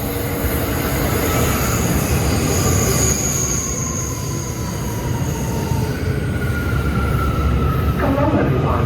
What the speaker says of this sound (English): But it looks like my train to Far Rockaway, the last stop at Mott Avenue, has got R179s.